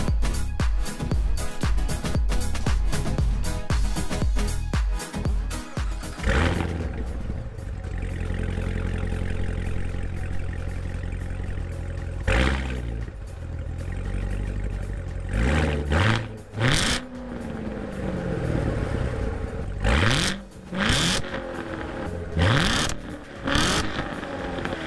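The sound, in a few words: 2016 Chevrolet Corvette Z06 engine revving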